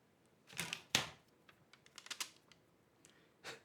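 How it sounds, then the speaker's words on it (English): Keys clack on a poor-sounding mechanical keyboard in a few scattered bursts, quick clicks clustered irregularly with quiet gaps between them, faint and close. "I'd like them to sound better because this keyboard doesn't sound very good."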